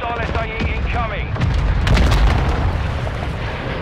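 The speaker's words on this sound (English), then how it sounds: "Hostile mortar strike near your position" Mortar strike explosions in Call of Duty: Modern Warfare II, loud rumbling booms swelling mid-clip over continuous battlefield noise, with game voice chatter underneath.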